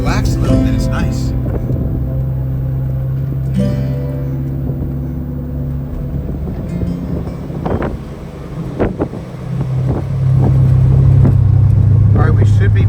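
A vehicle hurrying along a well-maintained forest road in the Ozarks, a steady engine drone and rolling road noise with wind buffeting the microphone, building louder near the end, with voices talking over it.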